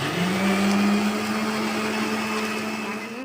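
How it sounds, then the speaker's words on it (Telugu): A mixer grinder whirs steadily, blending green chillies, ginger, lemon juice, salt and a glass of water for street-style pani puri; the motor hums loud and close for a few seconds and slightly eases toward the end, with no talk. "మిక్సీ పట్టుకోవాలి."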